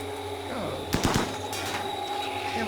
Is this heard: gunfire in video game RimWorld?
yes